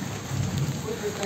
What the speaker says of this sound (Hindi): बारिश में